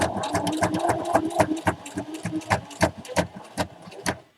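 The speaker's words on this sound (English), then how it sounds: "you're going to sew along that stitch line until you get to your next mark" A sewing machine stitches along a pleated apron seam in quick, rhythmic bursts of needle clatter, close and fairly loud, pausing briefly between runs with no speech over it.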